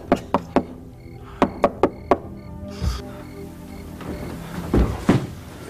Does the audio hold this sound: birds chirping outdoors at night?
no